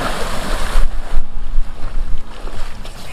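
Homemade free energy water pump with water gushing from its intake pipe, a loud turbulent splashing rush with bursts and surges, close and rough, no voices.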